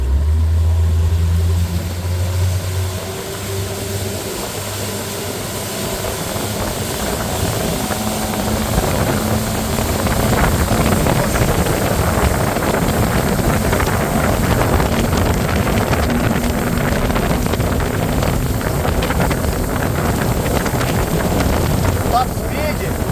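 A motorboat with its power trim lowered runs at full throttle toward a top speed of about 32 mph, giving a loud, steady engine roar with strong wind buffeting and water rush throughout.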